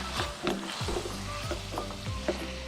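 Okra being stirred and mixed with seasoning, garlic powder and black pepper in a pan, with a soft continuous sizzle under repeated scraping strokes of a utensil, close and moderately quiet, no talk.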